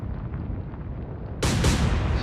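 A warship's naval guns fire in Atlantic Fleet, a heavy low rumble that swells into a loud, bright blast partway through, followed by a sustained roaring boom.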